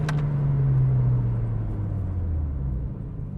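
A Chevrolet Corsa with a 1.0 engine accelerates, its steady engine drone rising gradually in pitch, loud and close, then easing slightly near the end.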